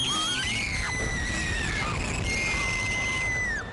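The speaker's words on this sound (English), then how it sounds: "if there's one thing guaranteed to cause the biggest screams, it's the drop." Riders on a roller coaster scream through a steep drop, with several high, sustained shrieks that rise and fall over a steady rumble of the ride.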